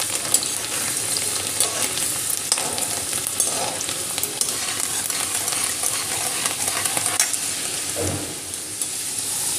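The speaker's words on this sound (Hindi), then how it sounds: "इसको हम अच्छी तरह से तेल में पका लेंगे" Chana dal, wiped dry, frying in hot oil with a steady close sizzle, brief stirring scrapes and a louder burst near the end.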